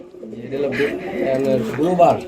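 Pigeons offered for sale at a Bangladeshi pigeon market coo softly beneath a man's steady, close talking, which dominates throughout.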